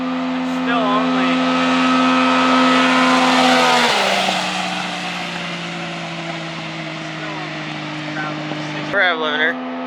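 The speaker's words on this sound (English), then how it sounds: "Rev limiter." A mini truck engine held high against the rev limiter, a loud steady buzzing drone that drops in pitch midway, then a brief sharp stutter near the end, with a voice talking over it.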